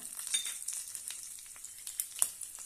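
Red and green chillies fry in hot oil in a pan for cucumber poha, giving a crisp continuous sizzle with small spits and pops, close and fairly quiet.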